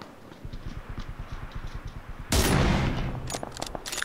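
Video game firefight between players on a hilltop: a burst of dense gunfire suddenly erupts after a stretch of rhythmic thudding footsteps, then gives way to scattered sharp shots, loud and fairly close.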